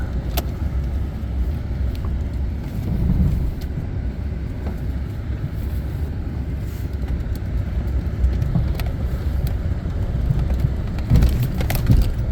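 A truck working its way down a steep wooded hillside toward pasture, with a steady low engine rumble and rough rattling bumps throughout, loud and close.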